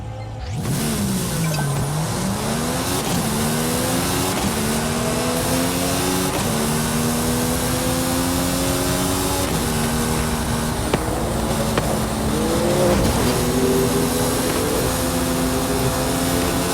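Mercedes-AMG One engine in a racing video game, loud and continuous, revving up through repeated gear shifts with rising whine that drops and climbs again, a constant roar throughout.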